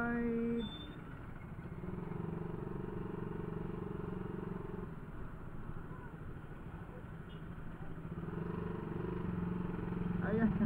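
Motorcycle engines idle and putter in slow, congested traffic at a busy public market, a continuous mid-loud drone under nearby chatter and talk.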